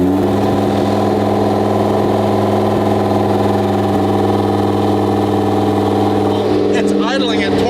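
A race car engine idles at a high, steady speed, loud and close with a strong droning hum, and a brief rise in pitch near the end.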